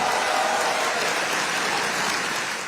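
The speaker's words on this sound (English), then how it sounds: "The applause followed by another teaser from the Prime Minister." Dense, continuous clapping from an audience applauding the Prime Minister, a loud, steady wash of many hands that stays even from start to finish.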